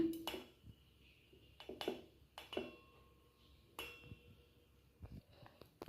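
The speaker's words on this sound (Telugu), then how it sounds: "నేను ఇప్పుడు ఆనియన్స్ ఇవన్నీ కూడా నేను ఒక పెద్ద బౌల్లోకి వేసుకుంటున్నాను" Chopped onions are tipped into a large bowl with several sharp clinks and knocks of metal and utensils against the bowl, spaced irregularly in a quiet kitchen.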